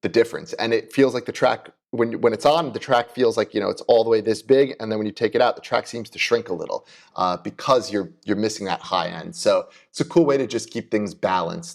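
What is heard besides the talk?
No distinct noise like a dog, phone or traffic.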